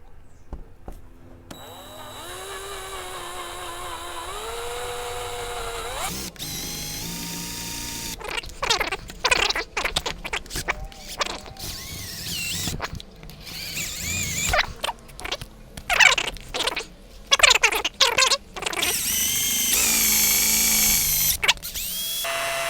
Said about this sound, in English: I'm gonna take my drill and start the hole that you need for the tube